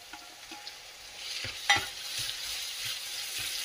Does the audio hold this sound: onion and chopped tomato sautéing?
yes